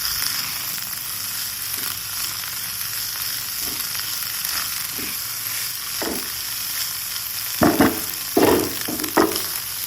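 Egg and okra stir-fry sizzling steadily in a pan, a loud continuous hiss with several scraping knocks of a spoon as it is mixed near the end.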